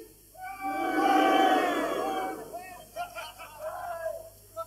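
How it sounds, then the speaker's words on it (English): Balcony section of a large London concert crowd at a 1980 show booing and hissing on cue, a swelling roar of many voices that peaks then breaks into scattered jeers and whoops as it fades. "Balcony only booing and hissing,"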